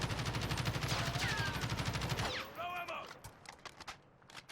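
Rapid automatic fire from a Kilo rifle emptying a full magazine in the Warzone video game, a dense loud rattle of shots that stops abruptly about halfway, followed by softer mechanical clatter.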